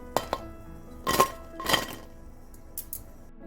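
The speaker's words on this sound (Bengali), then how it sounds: "এই স্মাইলিগুলোর উপরটা কিন্তু বেশ ক্রিস্পি হয় এর আওয়াজ শুনেই বুঝতে পারবেন" Crispy fried potato smiley snacks handled in a kitchen, giving a few short, close crunchy clatters and clinks in separate bursts against quiet.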